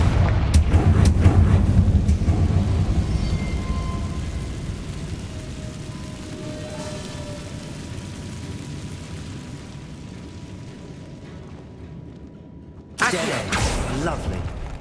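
A Confringo blasting spell goes off in Hogwarts Legacy, a loud burst at the start that rumbles and fades away, with a second sharp blast near the end; a voice shouts the spell just before it.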